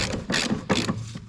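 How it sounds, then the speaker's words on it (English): Ratchet wrench turned by hand to tighten the top bolts of a rear shock absorber on a 2011 Ford Fiesta sedan, two close bursts of rapid clicking with a brief pause between them, no talking. "I'm going to tighten these by hand using a ratchet wrench"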